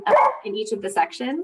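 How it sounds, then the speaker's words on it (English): A pet dog barks several times in a home, close and loud, with short sharp yips overlapping someone talking. "Sorry, that's my dog."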